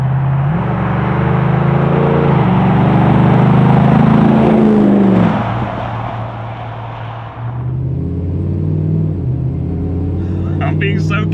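A 550hp LS3 V8 Land Rover Defender engine rumbles loudly while driving, rising under acceleration, then dropping back to a lower, steadier drone, with a voice speaking near the end.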